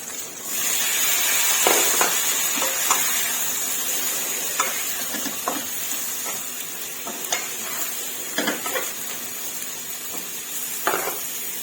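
Cucumber and egg stir-fry in a hot pan, a steady sizzle punctuated by irregular scraping and clinking of the utensil against the pan, close and continuous with no talking.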